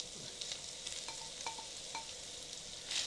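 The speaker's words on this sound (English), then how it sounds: "I have it here going on the griddle" Steak-ums with yellow peppers and onions crackle and sizzle on a griddle in a steady, quiet hiss, broken by a few light scrapes and stirring taps, with no voices.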